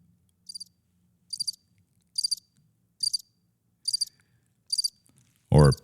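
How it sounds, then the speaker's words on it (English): Sound-effect button for crickets chirping: six evenly spaced bursts of high, rapid chirps against near silence, ending in a short loud clunk. "we do have crickets, don't we?"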